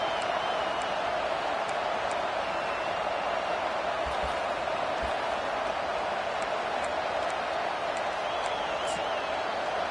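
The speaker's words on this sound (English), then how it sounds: "This crowd, full throat, splitting the eardrums and letting them know it's going to be a long day." A loud football stadium crowd roars at full volume, a steady dense wall of noise with scattered whistles and shouts running through the whole stretch.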